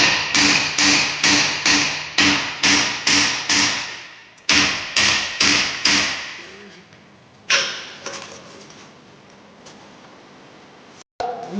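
A hammer strikes the wheel of a Volvo B10BLE bus in a quick series of sharp metallic blows with ringing decay, then a pause, a few more strikes and a final isolated hit, loud and close.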